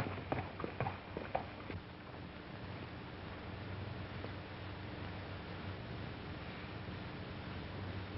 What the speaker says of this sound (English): There's a horse down here I'd like to have you see.